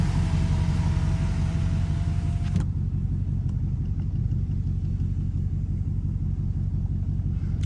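An unsupercharged Jeep Trackhawk driving on wet roads in the rain, with a constant low engine and road rumble and a hissing wash of spray that cuts out after a few seconds.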